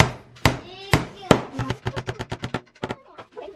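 A hammer striking a DIY wooden display shelf, starting with a few heavy, spaced blows and then speeding into a quick run of lighter taps, close and sharp with no voices.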